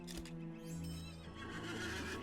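A horse in the online fantasy game Lord of the Rings Online gives a loud, drawn-out neigh with a hoof thump near the start, clear and close with no talking.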